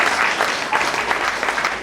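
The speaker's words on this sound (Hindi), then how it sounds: "तालियां बजाओ" An audience at a community center anniversary event applauds, a dense, steady wash of clapping heard at moderate distance, with faint voices beneath it.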